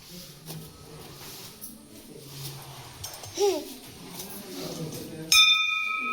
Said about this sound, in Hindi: घंटी बजे बेटा